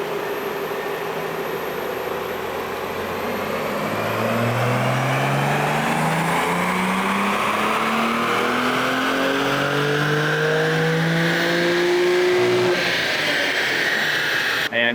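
A car with a 6-speed manual gearbox is run through a 4th-gear dyno pull, its engine note climbing steadily in pitch as it revs up, loud and close, holding strong to the end with no talking over it.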